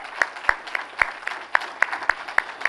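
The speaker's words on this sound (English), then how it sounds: "Please give a round of applause for those fabulous donors, please." Scattered applause for donors at a gala, a handful of separate sharp claps spaced roughly evenly, fairly near and moderate in loudness, with no talk over them.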